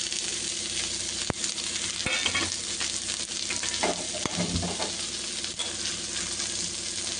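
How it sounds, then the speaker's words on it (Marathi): Onion frying in a pan sizzles steadily and close by, broken by occasional scrapes and sharp taps of a utensil stirring against the pan. "कांदा भाजत टाकते"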